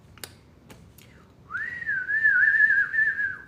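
After a couple of soft clicks, a person whistles one long, wavering note that holds steady for about two seconds, close and clear.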